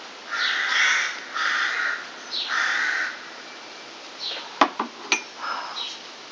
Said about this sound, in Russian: вороны раскаркались.